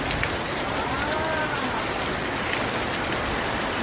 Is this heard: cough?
no